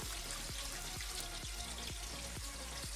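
Lukewarm water poured steadily over rice in a pot for soaking, a soft continuous splashing and trickling with faint rhythmic drips, close and quiet.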